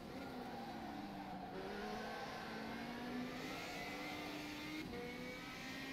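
The engine of a Radical race car in the rFactor 2 racing simulator drones steadily at high revs on the Portugal International circuit. Pitch rises and dips through gear changes and corners for the whole stretch, with no talk.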